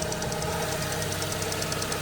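A 2005 Volkswagen Golf 4 automatic idles steadily, its absorber making a rapid, regular ticking clatter over the low engine rumble, close and continuous.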